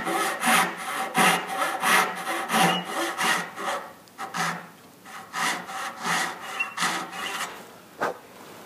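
A hand saw cuts a dovetail into a wooden board with steady back-and-forth strokes, each rasping pass close and clear, following a regular rhythm that briefly pauses near the end before a final stroke.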